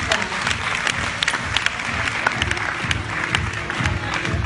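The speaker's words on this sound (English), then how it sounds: "a round of applause to our very own Miss Universe, Miss Pia Alonso Ortiz." Crowd applause at a Binibining Pilipinas 2016 pageant candidate presentation, dense and steady clapping that fills the room at a moderate level without pause.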